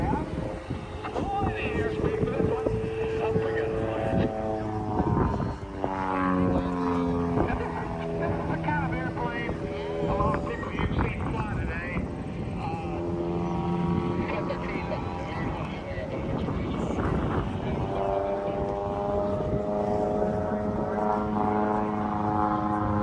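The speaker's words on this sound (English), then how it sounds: "It's a super decathlon." A Super Decathlon aircraft's propeller engine drones steadily and loudly at the Oshkosh airshow, a continuous buzzing hum with shifting pitch, while people talk nearby over it.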